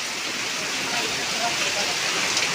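Heavy rain pours down with water running along a road, making a loud continuous rushing hiss that fills the whole moment.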